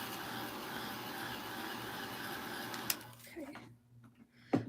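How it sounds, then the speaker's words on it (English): A small, quiet dryer blows steadily on a handmade craft project for about three seconds and then stops, followed by a few soft clicks and handling sounds, with one brief spoken word near the end. "My little quiet dryer."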